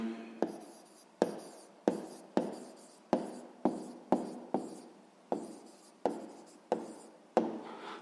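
A pen scratches out a math answer on paper, about a dozen short close strokes in an even rhythm, each a crisp rasp that fades quickly before the next begins.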